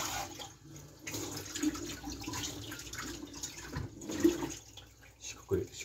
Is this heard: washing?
yes